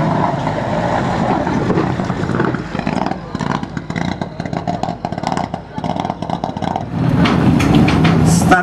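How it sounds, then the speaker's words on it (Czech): A Mitsubishi Lancer Evolution IX rally car competing at the Admiral Rally Vyškov 2009, a Czech championship event, roars past loudly with a revving engine, gear changes and fluctuating throttle, then swells again near the end. "další Lancer 9. evoluce, v něm posádka Milan Pantálek, Jaroslav Nová"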